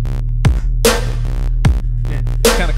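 A loud synth lead from a Serum preset in Ableton, from a remake of a track: punchy stabs and pitch-dropping notes in a repeating rhythm over a sustained low bass, with no vocals.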